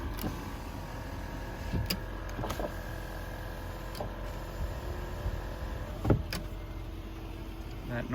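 Electric window motors whir steadily for several seconds inside a 2008 Land Rover LR3, a continuous mid-pitched hum with a couple of soft clicks, heard close up with no talking.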